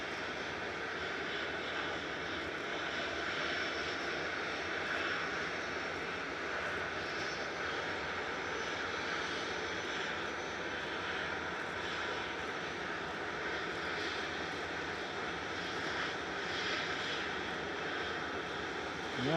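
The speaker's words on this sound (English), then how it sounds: "Oh, of course Brussels is going as soon as Aer Lingus is coming in." A jet engine drones steadily at Manchester Airport as an Aer Lingus aircraft lands and a Brussels-bound flight departs, a constant moderate roar at middle distance with no voices.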